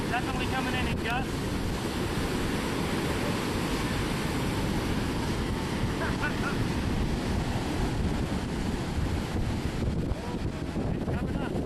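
Gusty coastal wind during Hurricane Earl roars steadily into the microphone, buffeting it with broad rushing noise and surf-like swells, loud and constant throughout with no pauses.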